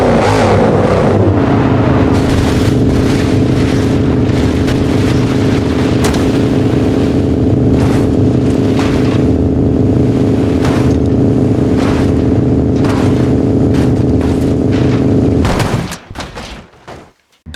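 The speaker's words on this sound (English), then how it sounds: "Bugatti Veyron." A Bugatti Veyron in the BeamNG Drive game accelerates hard, its engine holding a loud, steady high-revving roar for about fifteen seconds before cutting off abruptly into crashing clatter.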